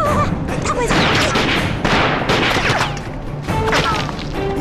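Gunfire in a wartime battle scene against Japanese soldiers: dense bursts of shots and sharp cracks in irregular clusters, loud and close, mixed with crashes and thuds throughout.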